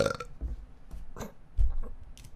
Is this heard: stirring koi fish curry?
no